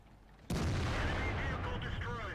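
An ISU-152 fires a 152mm shell in the video game World of Tanks: a sudden heavy cannon boom followed by a long sustained roar, with faint speech-like sounds underneath.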